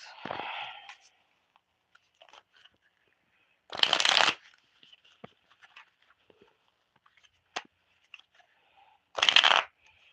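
Tarot cards are shuffled in three quick riffling bursts separated by quiet stretches with faint taps and small handling noises.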